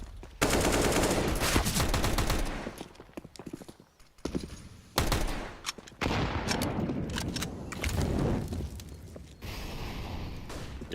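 Counter-Strike match gunfire from Tec-9 pistols and rifles: rapid bursts of shots crackle in dense clusters, broken by short pauses, loud and close, with rattling automatic fire between sharper single cracks.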